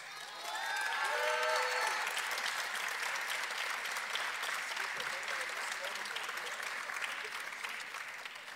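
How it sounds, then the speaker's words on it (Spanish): A graduation ceremony crowd claps steadily and loudly for a new doctor, a dense sustained applause that starts abruptly and carries on evenly, with a few faint voices mixed in. "Que siga este aplauso para el nuevo doctor Alfredo Loranca Santos."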